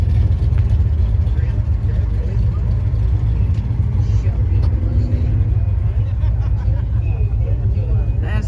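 A muscle car engine idling nearby at a car show on the Strip, a steady low rumble running throughout beneath crowd chatter and people talking close by.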